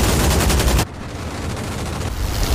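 Aircraft cannon fire in the flight simulator DCS World, a loud rapid burst from a fighter that cuts off sharply, followed by a rumbling wash of engine and battle noise.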